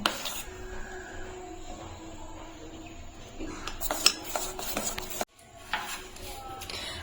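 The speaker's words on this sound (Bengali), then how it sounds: "এখন আমি ভালো করে মিশিয়ে নিচ্ছি।" Chocolate cake batter with vanilla being mixed in a bowl: quiet, continuous scraping and clinking of a utensil against the bowl, close but faint, broken by a brief gap near the end, with no talking.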